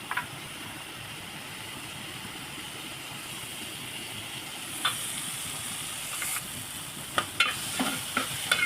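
Chopped tomato and cashew nuts frying in hot oil in a pan give a steady, soft sizzle with occasional sharper crackles and stirring clicks toward the end, with no voices.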